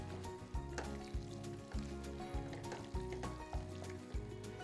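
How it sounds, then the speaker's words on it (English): Vegetable broth going into a sauteed vegan paneer mixture in a hot pan, a soft, steady sizzle broken by regular rhythmic knocks and scrapes of stirring. "I'll add in the vegetable broth."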